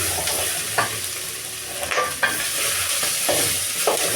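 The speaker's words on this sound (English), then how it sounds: "You can hear it frying." Steady sizzling of food frying in a saucepan while cooking pilau, with occasional scraping clicks of a utensil stirring.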